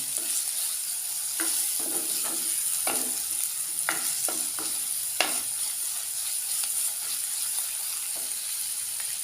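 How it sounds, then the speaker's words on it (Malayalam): Crushed shallots frying in a pan for a fish curry, a bright continuous sizzle with a spatula scraping and stirring in irregular strokes, close up and fairly loud, with no talking. "ഒരു 4 ടേബിൾ സ്പൂൺ ചെറിയ ഉള്ളി ചതച്ചത്. ഇത് മിക്സ് ചെയ്യാം."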